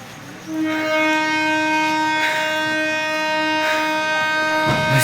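A small passenger train at Chhindwara Junction sounds a long, steady horn that holds for several seconds over rumbling rail noise, close and loud, with a sharp clatter near the end.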